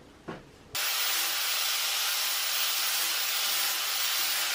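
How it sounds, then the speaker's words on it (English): Angle grinder with a flap disc smoothing freshly cut pipe edges: after a brief knock, a loud, steady, close-up hissing roar starts abruptly and holds continuously to the end. "I'm going to use the flap disc on the angle grinder to smooth off all the edges"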